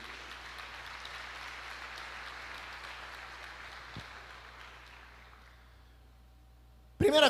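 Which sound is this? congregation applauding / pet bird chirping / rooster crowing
congregation applauding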